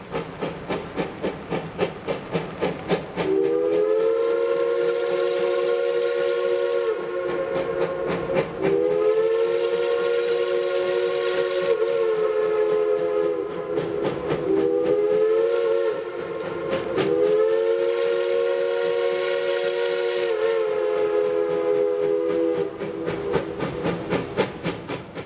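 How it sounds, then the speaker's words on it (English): Steam locomotive at the Wilmington and Western Railroad in Delaware's Red Clay Valley, loud rhythmic exhaust chuffing with four long, strong whistle blasts, each held several seconds, close and dominant. "the most captivating images that perfectly display the awesome sights and sounds of steam locomotives"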